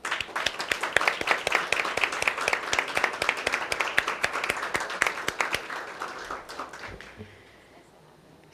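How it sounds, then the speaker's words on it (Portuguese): A room of people at a deliberative meeting breaks into sustained, lively applause with crisp individual claps that swell, then fade out toward the end, leaving quiet room noise. "nesse momento nós podemos aplaudir com muita força"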